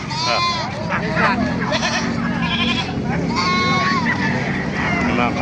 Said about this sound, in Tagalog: Mga kambing oh. Maraming kambing dito.